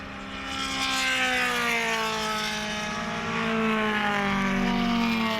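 Race cars from the SCCA Runoffs H Production class at VIR roll past on their cool-down lap, a steady droning engine drone with slowly shifting pitch, moderately loud and continuous.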